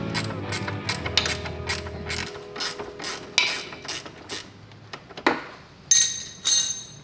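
A hand ratchet loosens bolts on a Polaris Sportsman 500 ATV during ball joint and tie rod work, giving repeated close, sharp clicking strokes in irregular bursts with a few louder clunks near the end.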